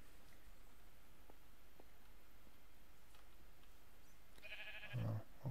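Minecraft sheep bleat once or twice near the end of a quiet stretch of game ambience, the calls short, close and fairly loud.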